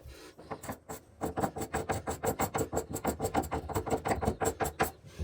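A knife scrapes old caulk off a bathtub wall in quick, rhythmic strokes, about four per second, close and dry, with no talking.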